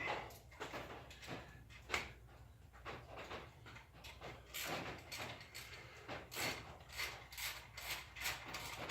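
Exhaust bolts on a Triumph Scrambler motorcycle being tightened with a ratchet, a faint series of short clicking and scraping strokes in an irregular rhythm at close range.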